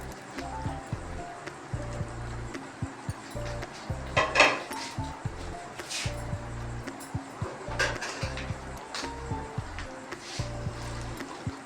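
Fried potatoes and cluster beans tipped into a pan of masala and stirred, with repeated close clanks and scrapes of a spoon on the pan and a soft sizzle underneath.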